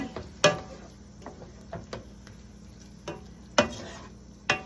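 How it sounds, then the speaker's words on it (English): Spoon scraping and stirring pumpkin caponata in a pan over a lowered flame, a few sharp scrapes and taps against the pan spaced irregularly over a faint steady background sizzle. "I add the pumpkin. Lower the flame. Mix it gently."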